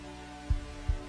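Two soft, low heartbeat thumps spaced about half a second apart over a faint steady hum, a quiet sound effect heard alone.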